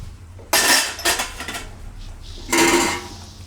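A spoon clatters and scrapes against a metal pot while tomato and green garlic chutney is mixed, with two loud bursts of clanking separated by quieter stirring; no talking.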